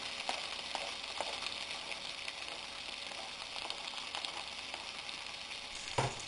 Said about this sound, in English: Saute the onions until they are slightly brown.